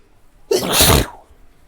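A single loud, close sneeze bursts out from silence, a sharp broadband blast lasting about half a second before fading back to quiet.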